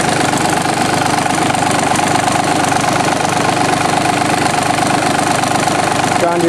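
The diesel engine of a John Deere F1145 mower idles close up with a loud, steady, rattling rumble that holds unchanged throughout.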